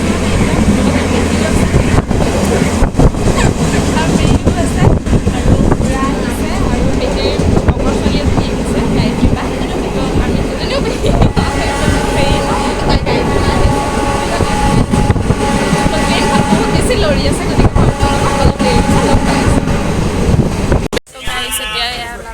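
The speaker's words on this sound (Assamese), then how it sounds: "দেখিছে আপোনালোকে ট্ৰেইন ষ্টাৰ্ট হৈ গ'ল, গৈ আছোঁ আমি।" A passenger train rolling along after pulling out of a station, with a steady loud rumble and rattle of railcars for about twenty seconds. People talk over it in the carriage, and the noise drops off abruptly near the end.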